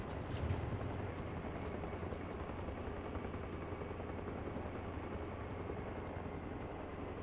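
Steady broadband rotor and engine roar of a helicopter lifting off in the video game Arma Reforger, continuous and even in level throughout, with a few sharp transients near the start and no voices.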